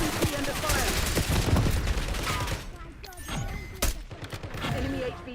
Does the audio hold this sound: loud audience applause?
no